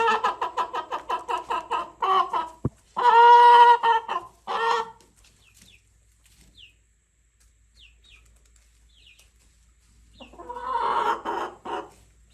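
Chickens cluck in quick rhythmic bursts up close, with a louder squawking call, then softer scattered clucks and another burst near the end.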